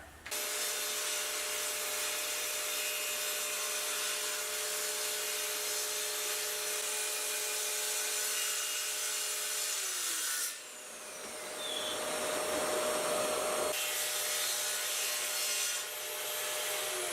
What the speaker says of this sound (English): So I need to cut across the top and then up the backsplash.